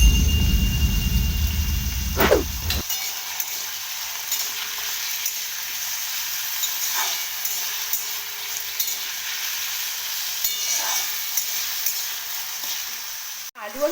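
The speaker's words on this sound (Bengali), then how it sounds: "কপিটা আমার একটু ভাজা হয়ে এসছে" Cauliflower frying in a pan for a Bengali fried-rice dish, with potatoes fried first: a loud clattery stir at the start, then a steady close hiss and sizzle that keeps going alone.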